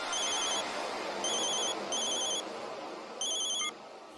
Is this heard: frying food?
no